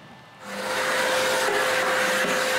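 Vacuum cleaner in a woodworking shop switches on and rises to a steady loud whooshing roar with a constant motor whine, holding evenly to the end.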